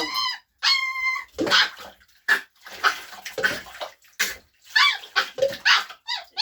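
A Shepsky puppy gives a run of short yaps and whiny barks, close by and irregular, with brief pauses between bursts.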